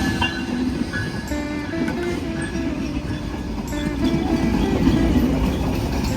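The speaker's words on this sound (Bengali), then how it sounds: "অবশেষে অনেকক্ষণ অপেক্ষা করার পরে ট্রেনটা চলে আইলো।" A train pulls into a station with a steady, loud rolling rumble and faint metallic squeals of wheels, close by, with no voices.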